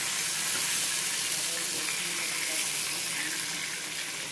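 Chicken frying in a pan: a steady broadband hiss and sizzle of hot oil, even and continuous, moderately close with no distinct pops.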